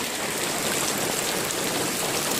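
Heavy hail pounding down during a storm in Stavropol, a dense, steady, loud clatter and hiss that fills the whole stretch without a break, with no voices.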